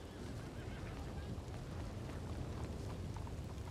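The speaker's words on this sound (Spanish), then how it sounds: "Está lloviendo, ¿no?" Steady rain in the video game Red Dead Redemption 2 hisses continuously at an even level, a dense wash of falling water with faint voices murmuring underneath.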